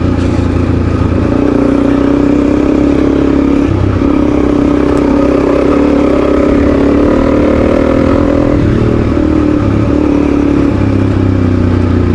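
A KTM 500 EXC-F dirt bike engine on the move, loud and continuous, with a rough throbbing drone, shifting revs and mechanical clatter throughout.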